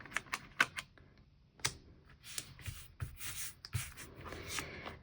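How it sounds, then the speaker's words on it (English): Sticker backing peeled away and stickers pressed onto a Happy Planner page: close, quiet paper rustles, taps and short peeling rasps in an uneven rhythm, with no talk. "And now let's just peel the backing off and stick them down."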